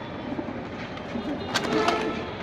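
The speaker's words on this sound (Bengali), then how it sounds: "দর্শক দেখেন খুব সুন্দর এক পেয়ার কবুতর" A pair of pigeons at a pigeon sale gives low, soft coos beneath people talking close by, while background noise hums steadily.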